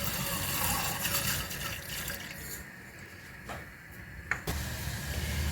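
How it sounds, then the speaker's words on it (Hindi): Milk poured into a pan, a faint continuous liquid trickle and splash close by, with a brief clink near the end, no talk. "ये जो दूध है ये पैन के अंदर डाल देना है।"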